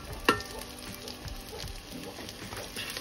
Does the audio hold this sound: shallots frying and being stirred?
yes